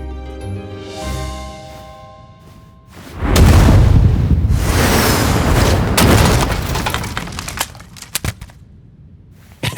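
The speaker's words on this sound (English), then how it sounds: "today I wanted to show you a little anime scene resound I did" Exaggerated anime punch effects redone for a Spy x Family scene: a soft tonal swell, then a sudden loud booming impact followed by a dense whooshing, crackling tail and several sharp hits toward the end.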